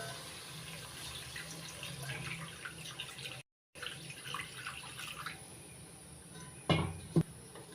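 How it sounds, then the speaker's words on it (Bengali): Water poured into a cooking pan of mustard-based fish curry on a gas stove, a soft continuous trickling and splashing heard faintly alongside a steady insect-like hiss, ending with a couple of brief louder clatters. "এবার দিচ্ছি পরিমাণ মতো জল।"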